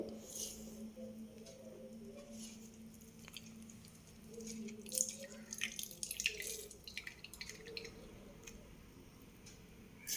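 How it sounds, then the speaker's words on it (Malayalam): Grated beetroot is squeezed by hand so its juice drips out for mixing into henna. Faint, close squishing and irregular wet drips continue throughout over a low background hum, with no talking. "വെള്ളം ചേർക്കാതെ ഇതിലുള്ള വെള്ളം മാത്രമാണ് വരുന്നത്. നന്നായിട്ട് അമർത്തി പിഴിഞ്ഞാൽ മതി."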